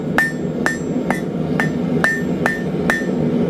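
A hammer strikes a hot glass vessel on an outdoor stake in seven evenly spaced, sharp metallic taps, each ringing briefly, close and loud over a faint background hum.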